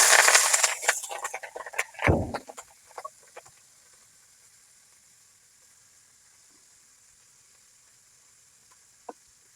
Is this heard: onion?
yes